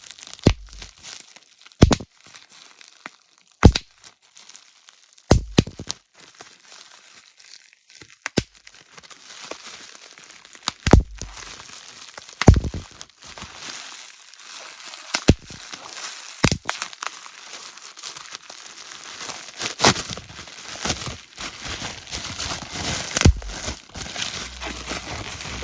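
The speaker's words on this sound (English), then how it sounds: "Nice bubble wrap. Let's do a little ASMR." Bubble wrap packing from a coffee delivery is handled and crinkled up close, with sharp crackling bursts and pops scattered irregularly over a quieter rustling bed, no voices present.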